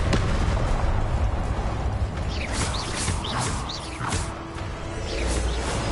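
Confringo fire spell blasts in the Hogwarts video game, several bursting impacts over a dense, loud game soundscape with crackling and mechanical rumble throughout.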